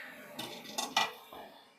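Metal lid set back onto a pot of boiling macaroni on the stove, a few close clattering clinks and a scrape in quick succession, with no talk.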